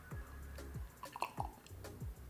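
Carbonated coconut pieces from a Mogu Mogu drink are bitten and chewed, a few soft, wet crunches and squishes close to the mouth with quiet gaps between them.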